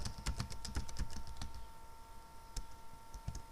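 Quick bursts of clicking keystrokes on a computer keyboard while entering Java array code, a rapid flurry at first and then sparse single taps, close and moderately quiet.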